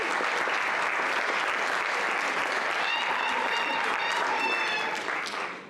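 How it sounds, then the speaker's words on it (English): Sustained applause from a crowd at a high school senior awards ceremony, dense and steady clapping throughout, with a few whistles and cheers mixed in before it tapers off at the end. "One more round of applause for this great group."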